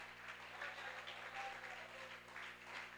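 Church congregation gives sustained, distant applause during a sermon, a faint, even wash of clapping lasting several seconds over a low steady hum.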